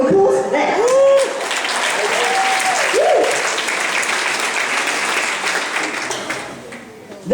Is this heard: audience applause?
yes